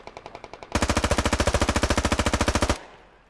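A turret machine gun in the Squad video game fires a long, rapid, steady burst that follows a few lighter, quicker shots, loud and close, then cuts off into a fading echo. No voices are heard.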